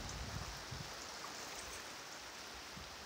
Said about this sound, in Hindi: पानी देखो कैसा पूरा बहाव मार रहा है